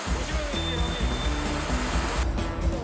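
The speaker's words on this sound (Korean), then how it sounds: "여기가 이제 밀을 쪄주는 기계입니다." An industrial steaming machine cooks wheat with steam and moisture in a makgeolli factory. It gives a dense, continuous roar and hiss with low mechanical tones running underneath throughout.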